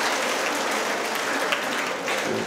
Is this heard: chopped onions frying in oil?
no